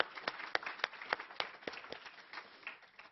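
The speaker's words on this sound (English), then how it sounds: "Can we give them a round of applause for making it?" Scattered clapping from a small crowd, a steady patter of hands with a few sharper claps standing out, moderately loud and without voices.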